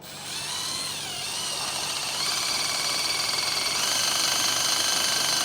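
Power drill driving small self-tapping screws into a boat trailer axle to mount brake line holders, a loud high whine that rises in pitch and holds steady for several seconds, close and alone.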